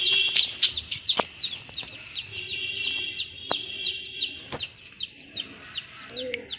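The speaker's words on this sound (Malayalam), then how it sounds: "ഞാനിവിടെ കോഴിയെയും പ്രാവിനെയും താറാവിനെയും വളർത്തുന്നുണ്ട്" Backyard chickens, pigeons and ducks kept at home, with repeated sharp chirping calls in a quick series over a quieter clucking background and a few brief knocks.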